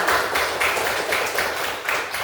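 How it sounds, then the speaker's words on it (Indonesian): Students in a classroom clap for a classmate who has just answered, a steady, dense patter of hands with rhythmic surges, close by and with almost no talking. "Beri tepuk tangan untuk kawan kalian ketiga"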